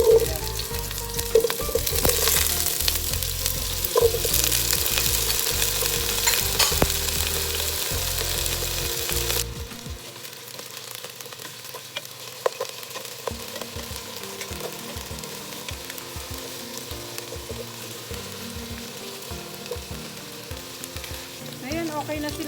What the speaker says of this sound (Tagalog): At yung ating carrots and potato. Prituhin muna natin sila.